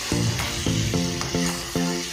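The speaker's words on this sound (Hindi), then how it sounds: "यहाँ पे अच्छे से मिक्स करके टमाटर भी इनके साथ में मिक्स कर लेंगे, जिससे कि टमाटर, प्याज और शिमला मिर्च अच्छे से पक जाए।" Tomatoes, onion and capsicum sizzle in a pan for pasta, a continuous close frying hiss under recurring musical notes, with no speech.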